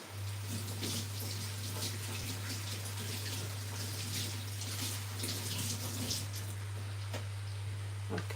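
Tap water runs steadily into a sink while white cabbage is washed under it, a constant splashing hiss with a low hum beneath and occasional small knocks, no talk.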